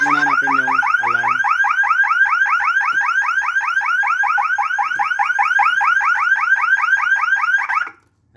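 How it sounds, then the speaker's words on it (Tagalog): An Isuzu Crosswind's alarm siren wails in a fast, rapidly repeating electronic warble, loud and continuous for about eight seconds before cutting off abruptly, with a few brief low engine-like pulses at the start. "So nag-trouble po yung kanyang alarm system."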